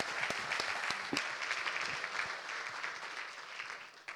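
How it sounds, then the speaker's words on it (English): A conference audience at a sustainable aviation event applauds the panel, with many hands clapping in a lively, slightly uneven rhythm that stays strong and gradually thins toward the end. "Let's give our panel a warm round of applause"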